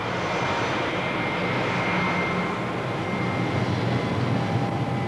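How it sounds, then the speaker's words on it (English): A British Caledonian passenger aircraft in from Paris taxis at Gatwick Airport after landing, its engines giving a steady, loud broadband roar with a faint whine that holds level the whole time. "British Caledonian flight BR-895 from Paris is down safely, 3 minutes ahead of schedule."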